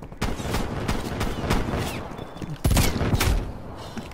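Rapid, sharp pistol shots from dual-wielded handguns in Black Ops Cold War Gun Game, cracking out in quick uneven succession, close and loud, with a heavier double blast late in the run.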